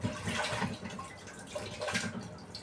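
Tap water runs while food is washed at a kitchen sink, a faint continuous splashing with small bursts and clatter, heard up close and quiet.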